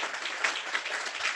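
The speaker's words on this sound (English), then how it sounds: "Please, one more round of applause for both." A short burst of audience clapping at an event honouring immigrant advocates, a soft, steady patter of many hands lasting just over a second.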